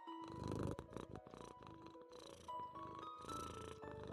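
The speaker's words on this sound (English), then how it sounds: "She's so close to the camera you might be able to hear her purring." A cat purrs right next to the microphone, a close steady rumbling purr in rhythmic breaths, with faint background sounds and no talking.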